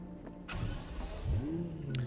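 Bugatti Veyron-based Caliburn supercar in the video game Cyberpunk 2077 gives a brief moderate engine rev with a rising whine, over steady low engine hum and no speech.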